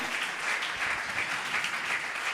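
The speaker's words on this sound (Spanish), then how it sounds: "Dele un aplauso a Jesús" A church congregation applauds Jesus during a sermon, a steady wash of many hands clapping at moderate distance, sustained evenly with no voice over it.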